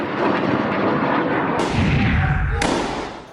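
Rocket attacks on Israeli cities by Hamas's Saraya al-Quds brigade: a sustained roaring whoosh of launches with heavy low rumble and abrupt bursts, loud and continuous throughout.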